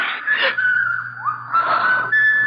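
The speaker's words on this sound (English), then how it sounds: "There's that whistling again." An eerie, wavering whistle in an old radio drama, thin tones rising and gliding over a low steady hum, swelling in bursts across a couple of seconds with no talking.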